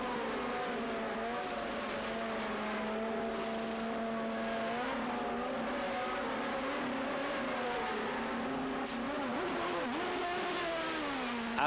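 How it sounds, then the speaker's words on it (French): An IndyCar race car engine sputters at the 1998 CART race in Miami, a wavering, uneven engine drone heard at a distance, with pitch wobbling and dipping against steady background noise. "On entend un moteur qui, comme on dit, ratatouille."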